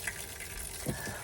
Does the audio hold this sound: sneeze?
no